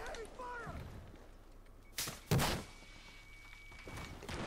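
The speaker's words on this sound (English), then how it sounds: "Sniper shooting as well." Sniper fire in Battlefield 4 on the Silk Road conquest map: a single loud, sharp gunshot rings out over the ambient battle noise, with a faint whistle shortly before it and a brief thud.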